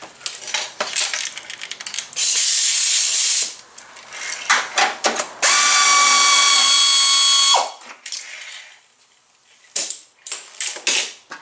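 A ratchet removes bumper plugs on a 2015 Ford Transit 250: clustered metallic ticks and clicks, with two long, loud sustained runs of ratcheting, close up and without speech.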